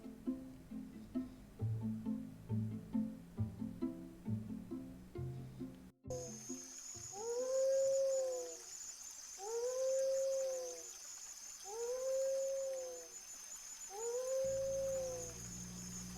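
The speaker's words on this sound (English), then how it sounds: "Let's actually add a filter onto our wolf howl, and let's make it sound a little spookier." Repeated wolf howls used as a game sound effect, four rising-and-falling wails in a regular rhythm, moderately loud over a steady high-pitched cricket ambience, following a stretch of rhythmic tones before the howls begin.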